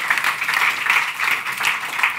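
Audience applause at a seminar in Almedalen, a dense, steady patter of many hands clapping together for about two seconds with no talk over it.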